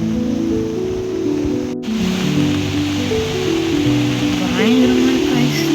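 The Poolangal river at Valparai rushes loudly in monsoon flow, a dense continuous roar of churning water with a voice talking over it.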